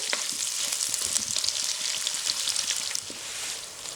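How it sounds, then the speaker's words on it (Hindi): Sliced onions fry in half a cup of hot cooking oil for a beef mince and green chickpea dish, a steady close crackling sizzle with scattered pops and stirring, no voices. "स्लाइस की हुई प्याज गरम ऑयल के अंदर, इसको ब्राउन कर लेते हैं।"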